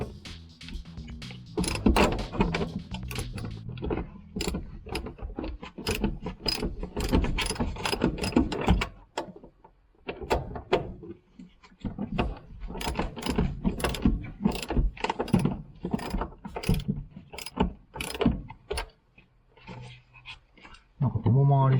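A ratchet wrench works loose the fasteners holding a car seat and seatbelt mount on a rusty old car being restored after 20 years of disuse, with rapid repeated clicking bursts close by and a voice speaking at times.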